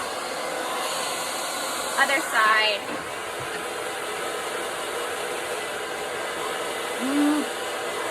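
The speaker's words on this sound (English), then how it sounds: "I'm rolling that as I'm moving my blow dryer" A blow dryer runs continuously with a steady airy roar, while a person briefly speaks over it.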